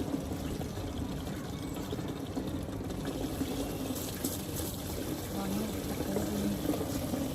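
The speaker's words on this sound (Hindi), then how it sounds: "हम आए हैं प्लांट्स में पानी डालने" Water poured onto potted plants, including roses, at a home, a steady low splashing flow under ongoing outdoor background noise throughout.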